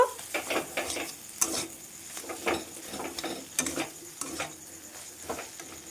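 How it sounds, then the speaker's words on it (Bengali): Prawn filling with cumin powder is sautéed in a pan, sizzling steadily while a spatula scrapes and stirs in repeated strokes, close and moderately loud. "অল্প একটু জিরে গুঁড়ো দিয়ে দেবো দিয়ে ফের ভালোভাবে কষিয়ে নেব"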